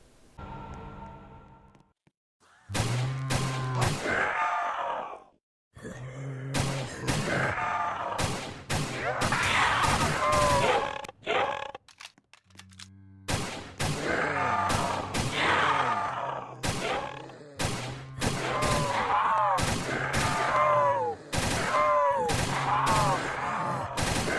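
AK rifle fire from Roblox Project Lazarus comes in repeated bursts of sharp shots. Zombie groans and grunts sound between the volleys, with brief pauses.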